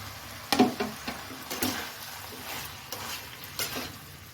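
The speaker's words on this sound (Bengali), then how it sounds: "এখন আমি এগুলো সব ভেজে রাখা মিষ্টি কুমড়ো আলু আর শুটকি এই তিনোটাই দিয়ে দেবো" Fried pumpkin, potato and dried fish stirred in a pan, giving a soft steady sizzle broken by several sharp scraping knocks of the spatula, close and moderately loud.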